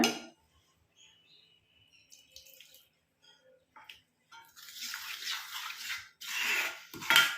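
Juice poured little by little into a bowl and stirred into a herbal hair dye mix: quiet at first with faint clinks, then a few seconds of close, soft splashing and wet mixing, with a spoon tapping the bowl.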